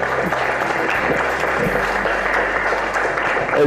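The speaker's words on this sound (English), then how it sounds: "a huge round of applause should go to KeyMind" Audience applause at a school public speaking competition, a steady wash of clapping from a crowd, fairly loud and continuous for the whole stretch.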